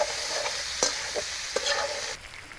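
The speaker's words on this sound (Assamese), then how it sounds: "অকণমান পিঁয়াজটো ফ্ৰাই হৈ যাওক।" Onions and local chicken sizzle steadily in a hot pan, with a few sharp scrapes and clacks of a stirring utensil breaking through the frying hiss, no voices.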